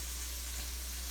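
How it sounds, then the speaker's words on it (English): Chopped tofu sizzles in margarine in a pan, a steady even frying hiss at a constant level throughout, with a low hum underneath and no talking. "now what I'm gonna let it do is I'm gonna let it sizzle a little bit"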